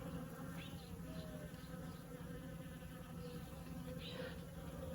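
Bees buzz around a garden plant, a faint, continuous drone with individual insects passing close now and then over quiet outdoor background.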